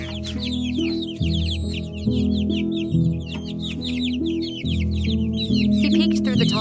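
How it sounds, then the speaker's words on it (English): A hen clucks repeatedly in short, steady bursts close by, with small birds chirping and peeping high above. "The hen clucked joyfully, running to her chicks, gathering them under her wings."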